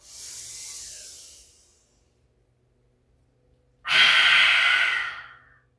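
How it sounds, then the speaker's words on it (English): Two long breaths from a yoga-style breathing exercise: a soft airy inhale, a pause of near silence, then a louder, forceful, close exhale that fades out. "And then exhale at the top, last one."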